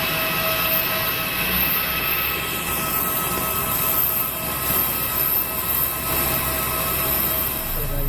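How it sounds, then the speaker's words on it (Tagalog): Cabin noise aboard an AirAsia flight, a loud, continuous engine roar and rushing hum with steady tonal whine that holds throughout, with no talking over it. "Medyo maingay yung makina"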